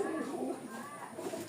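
Pigeons kept for flying coo softly in a loft, low murmuring calls over a faint background hiss, with no clear talking.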